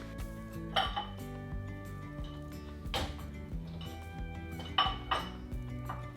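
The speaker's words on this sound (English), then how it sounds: "Everything is cleaned. Dishes are done." Dishes, pots and cutlery clink and clatter in a home kitchen sink during a bean-soup canning session, with several sharp knocks of metal and glass over a soft running wash; fairly quiet and close, with no talking.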